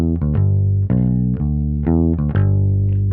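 Bass guitar plays a blues riff of long, smoothly connected notes through a G–B–D pattern, fretting-hand legato giving sustained low tones with a few soft attacks, close and loud with no talk.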